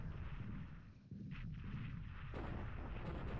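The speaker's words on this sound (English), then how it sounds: "Now let's see how the bombing run goes." Dull, rumbling bomb explosions from a bombing run in the War in the Pacific: Admiral Edition strategy game, forming a continuous heavy low roar with a few brief brighter bursts.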